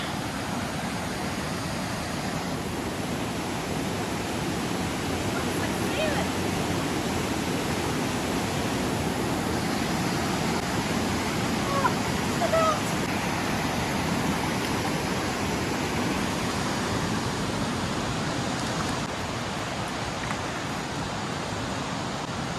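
A small stream trickles through the sandy bed of Saklıkent Gorge in Turkey, a steady broadband rush of water that stays even and close throughout with no voices.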